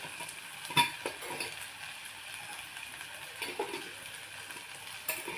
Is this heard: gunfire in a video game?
no